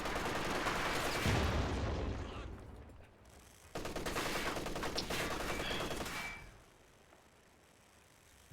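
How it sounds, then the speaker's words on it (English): Sustained machine gun fire in Company of Heroes 2, two guns rattling in rapid bursts, loud and dense for several seconds with a pause between, then fading to quiet battlefield ambience. "Double machine guns are making it challenging for Tofu to move around."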